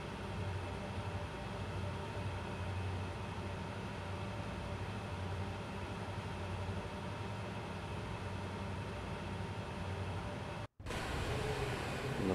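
Locomotive number 2 hauling a train in the Ts2prototype video game runs with a steady, continuous rumbling drone, briefly cut by a split-second dropout near the end before the same engine noise resumes.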